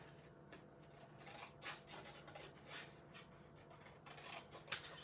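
Scissors trimming paper for a butterfly mobile, a few quick, soft snips and rustles of paper spread across the moment, close and fairly quiet.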